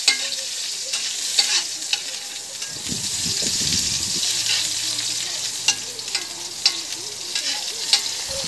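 Onions sautéing in a hot pan and being stirred repeatedly, a steady close sizzle broken by sharp scraping clicks of the utensil and a brief burst of louder frying midway.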